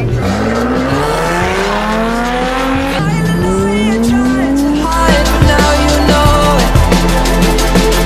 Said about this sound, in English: I'm driving the Evora GT410, guys. This car sounds amazing.